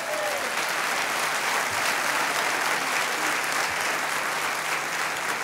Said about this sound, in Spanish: Vamos, dele palmas al Señor por eso.